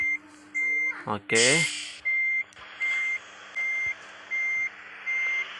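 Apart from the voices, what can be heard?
bus reversing beeps in the video game Bus Simulator Indonesia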